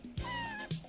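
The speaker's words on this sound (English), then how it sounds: "Luna loves to talk, so I knew that she would go for that. She is the most talkingest cat." A talkative domestic cat named Luna meows close to the microphone, one drawn-out, rising-and-falling meow framed by soft chirpy onsets.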